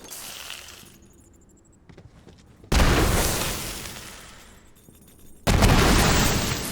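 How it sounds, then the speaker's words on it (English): Two MRV grenades in Borderlands 3 detonate one after another, each a sudden loud crashing blast with debris that decays slowly, following a quieter stretch of small game sounds. "MRV, spawns more MRV grenades after exploding"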